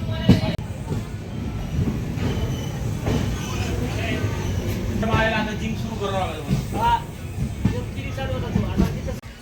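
A train rumbles steadily at busy Karmali railway station in Goa with a low, continuous drone, and voices chatter faintly over the ambience throughout.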